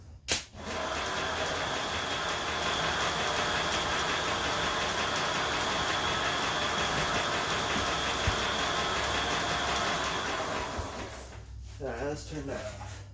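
A 1967 John Deere 110 lawn tractor engine runs steadily and fairly loud for about ten seconds after a brief start, then cuts off, with a short voice or clatter near the end.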